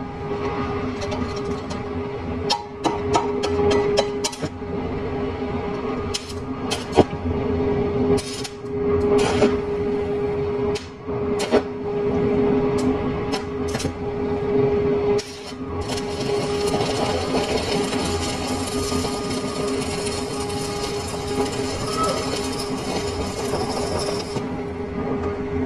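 Arc welding while laying a weld layer gives a steady close crackling buzz with a constant tone, broken by brief pauses and restarts early on, then a long unbroken stretch of sizzling.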